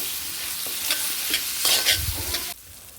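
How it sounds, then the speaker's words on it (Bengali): Onions and tomatoes fry in oil in a wok, with steady sizzling and several scraping stirs close by; the frying noise drops abruptly near the end. "এখন হচ্ছে কিছু টমেটো দিয়ে দিলাম, পেঁয়াজের সাথে টমেটোগুলোকে ভেজে নেব।"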